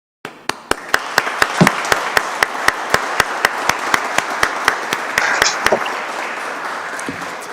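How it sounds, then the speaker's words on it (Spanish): Applause at a swearing-in ceremony for new lawyers before the Supreme Court, opening with a burst of clapping, then sharp rhythmic unison claps over continuous applause that gradually thins out. "Aplaudamos vuestro logro."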